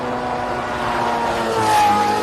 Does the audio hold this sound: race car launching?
yes